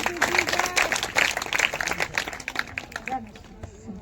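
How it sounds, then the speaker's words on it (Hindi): Church congregation clapping at a Hindi-language worship service, a dense wash of applause that is loudest early and fades toward the end, with voices mixed into the crowd. "जोरदार ताली से परमेश्वर की महिमा करेंगे।"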